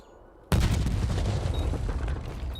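A grenade detonating in the Call of Duty video game during a League Major IV qualifier match: after a quiet moment a sudden loud blast hits and rolls on into a sustained roar of debris and rumble.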